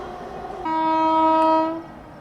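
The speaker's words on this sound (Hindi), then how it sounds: "यहां पर आ रही है अभी नई दिल्ली भुवनेश्वर तेजस राजधानी एक्सप्रेस" A New Delhi–Bhubaneswar Tejas Rajdhani Express passes close by, sounding a loud, sustained multi-tone horn for about a second over the steady rumble of the train.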